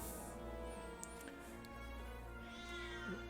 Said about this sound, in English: Can I interest you in a Shrieking Cat?